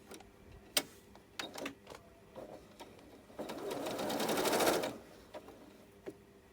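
A sewing machine stitches a long length of fabric, starting with a few short separate bursts and then running in one steady whirring stretch near the mic before stopping, followed by a few quiet clicks.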